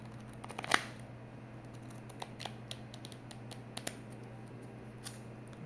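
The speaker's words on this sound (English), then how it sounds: "I'm gonna tap on it a bit. I'm gonna just make some card sounds." Magic: The Gathering cards from an elf deck tapped and handled up close, sparse soft clicks and taps scattered over a low steady hum, with one sharper snap early on.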